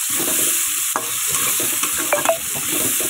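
Potatoes fry in a wok with salt and turmeric, a steady close sizzle broken by scraping stirs and a few sharp clinks of the spatula, with no talk over it.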